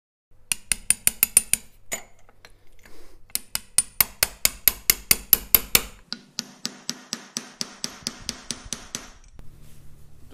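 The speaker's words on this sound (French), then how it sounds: "Je dois à présent la faire entrer dans l'ouverture avec un marteau et un petit burin." Sharp metallic hammer blows strike in quick regular bursts, ringing hits on a small chisel driving a metal filler nozzle into an opening on a café racer's fork leg, then a steady rasping, scraping sound follows.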